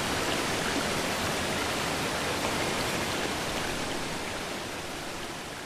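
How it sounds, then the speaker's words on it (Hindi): Water gushes in a Japanese subway corridor in the video game The Exit 8. A dense, steady roar of pouring water fills the whole clip at high volume, easing only slightly toward the end, with no speech. "ये पानी कहाँ से आया है?"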